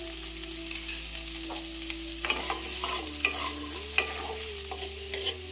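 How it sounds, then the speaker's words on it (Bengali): Carrots and beans fry in hot mustard oil with a steady close sizzle, broken by scattered scraping and clinking as a spatula stirs them in the pan, over quiet background music. "এবার ওই একই তেলের মধ্যে গাজর আর বিনসটাও ভেজে নেব"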